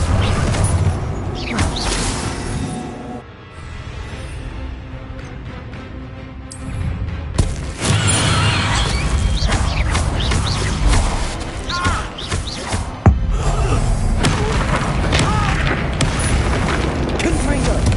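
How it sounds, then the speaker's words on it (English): Bombarda blasting spell in Hogwarts Legacy, heavy booming explosions amid a loud, chaotic magic duel with crashes and rumbling impacts, several sharp blasts scattered throughout, with voices shouting over the fight. "Bombarda!"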